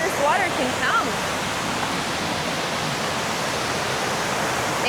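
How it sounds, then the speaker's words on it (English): A waterfall on Mill Creek in Arkansas roars in a loud, dense, unbroken rush of water, close by, with a brief voice near the start. "so I can get you a closer view of the waterfall here"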